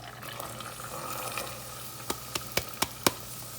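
Carrots drop into melted butter in a soup pot, setting off a faint sizzle, followed by a quick series of five sharp clinks and taps near the end.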